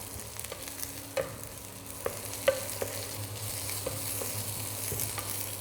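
Chili pieces and onions frying in oil, a soft steady sizzle under a low hum, with a few sharp clicks and taps of a spoon at the pan.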